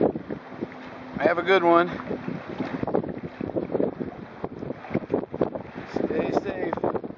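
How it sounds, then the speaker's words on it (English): Wind gusts buffeting the microphone while kayak sailing near shore, a loud roaring rush with water splashing and the hull moving, while people talk over it. "Here's a gust. Nice gust."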